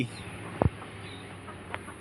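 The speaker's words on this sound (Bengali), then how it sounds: "মুরগি" A single short chicken cluck stands out against a quiet background, followed by a fainter chirp a moment later.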